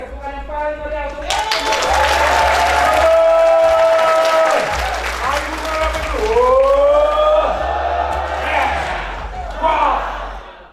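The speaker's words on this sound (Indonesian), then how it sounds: "tepukan yang paling meriah untuk" A room full of seminar attendees breaks into loud, energetic clapping and cheering, the applause dense and sustained while a voice talks over it through much of the stretch.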